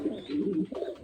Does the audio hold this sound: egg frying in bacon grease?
no